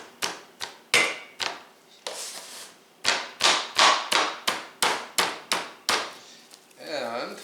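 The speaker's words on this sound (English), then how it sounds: "chicken breast, and you just pound gently" Chicken breast is pounded into thin quarter-inch cutlets with a mallet in a home kitchen, giving a steady series of about a dozen close, sharp thwacks, with a brief rustle at the end.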